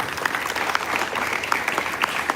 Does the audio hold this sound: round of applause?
yes